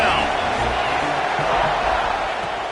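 A stadium crowd roars in the NCAA 26 college football video game, a steady dense wash of cheering held at moderate loudness throughout, with a commentator talking over it.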